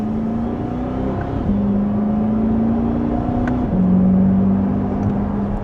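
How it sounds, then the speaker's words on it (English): A 2025 Chevrolet Corvette C8 E-Ray convertible in sport mode, second gear, accelerates mildly with a steady, loud engine drone that rises in pitch, dips at a shift, then climbs again, with no talking. "And just a mild acceleration."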